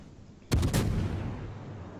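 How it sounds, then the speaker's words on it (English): Warship guns firing shells in the naval battle game World of Warships, heard as one loud, sudden broadside boom with a few quick overlapping cracks, followed by a long rumbling decay. "So I take some shots out at the Algerie."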